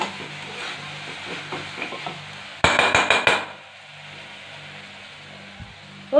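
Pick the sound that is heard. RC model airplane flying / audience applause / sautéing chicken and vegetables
sautéing chicken and vegetables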